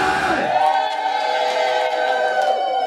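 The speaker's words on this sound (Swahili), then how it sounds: "Wamama vigelegele" Women in a church crowd at an Easter conference ululate in a loud, high, trilling chorus that holds steady for a few seconds, with a general crowd roar beneath.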